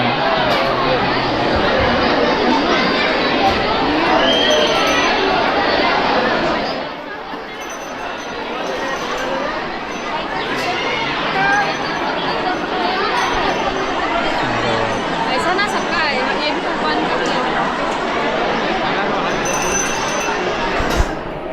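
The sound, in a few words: crowd chatter at Jivdani temple, Virar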